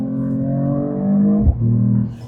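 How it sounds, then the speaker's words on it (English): A Mercedes-AMG E53 engine rising in a smooth rev, then a brief dip and catch at a quick gear shift before settling, loud and close from inside the car. "the shiftings are very quick, especially downshift."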